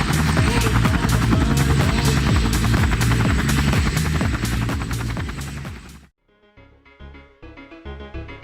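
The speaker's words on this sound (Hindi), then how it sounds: "और हेलीकॉप्टर ने टेक ऑफ किया।" A helicopter taking off, a loud, steady rotor thump and engine whine that cuts off abruptly, followed by quieter, sparse tonal sounds.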